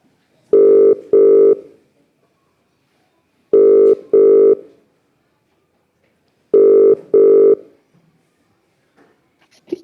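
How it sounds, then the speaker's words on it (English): A telephone rings loudly in three evenly spaced double-pulse bursts, each pair separated by a few seconds of silence, with no talking in between. "we've got a phone. It's ringing."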